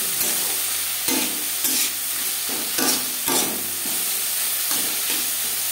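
Sliced bitter gourd and potato frying in a pan over a medium flame, a constant loud sizzle broken by repeated scraping stirs at an irregular pace, close up with no talking.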